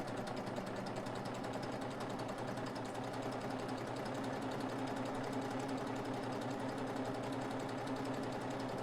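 A Babylock serger stitching a 3-thread flatlock runs in a steady, continuous mechanical whir with a fast rhythmic clatter, holding an even level throughout with no voices.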